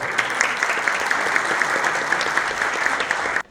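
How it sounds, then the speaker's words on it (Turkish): Steady applause from an audience at a motorcycle safe-riding training event in Çukurova, dense and continuous, with no talking, then cutting off abruptly at the end. "Çukurova Belediye Başkanımız Sayın Emrah Koza'yı alkışlarla kürsüye davet ediyor"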